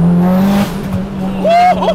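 A 600 hp Mitsubishi Evo 8 race car drives on the street with a steady, close engine drone, and a higher whine rises near the end.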